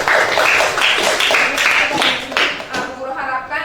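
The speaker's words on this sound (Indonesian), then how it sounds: "Tepuk tangan untuk kalian semua." Students clapping hands in a classroom, a lively round of applause with clearly separate claps in a quick rhythm, close and fairly loud, fading toward the end.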